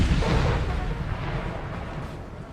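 Artillery fire in a Napoleon Total War battle, Hohenlinden 1800: a continuous low rumbling roar of distant cannon, dense and steady, slowly fading.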